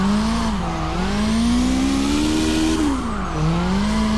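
A car drifting and spinning a full 360 in the CarX racing game, with a loud, steady engine drone that rises and falls in pitch as it revs through the slide, heard alone and close.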